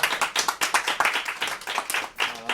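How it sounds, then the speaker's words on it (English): An audience welcomes guest speaker Dr. Michael Hepworth with applause, a smattering of distinct claps in irregular rhythm, fairly close, sounding like a small crowd. "applause."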